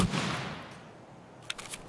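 Gunfire in the shooter Escape From Tarkov, a dense burst of shots at the start fading into a rumbling tail, then a few sharp isolated cracks near the end, with no talk over it.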